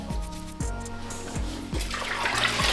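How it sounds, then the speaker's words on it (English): Bags being scrubbed and rinsed in water, with sloshing and splashing plus repeated low thuds as the fabric is worked in a basin, close and continuous. "So now time to scrub them a bit and then give them a rinse"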